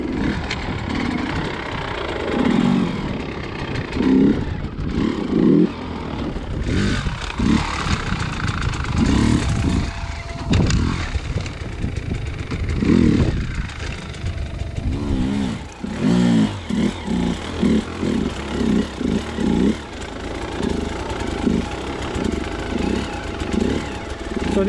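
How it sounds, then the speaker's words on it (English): An enduro motorcycle engine revs and idles in bursts as the rider pulls the bike around in a pivot turn, working throttle and clutch. Close, uneven pulses of engine noise rise and fall throughout. "Just pull the bike on the left and give it some throttle and release the clutch."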